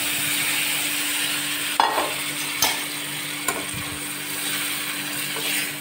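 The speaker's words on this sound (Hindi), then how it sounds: "अब जो चटनी हमने ग्राइंड की थी, पीसी थी, इसका तड़का इसमें लगाते हैं" Ground chutney sizzles as it hits hot ghee with cumin, a steady close frying hiss with a few sharp clinks and scrapes from stirring.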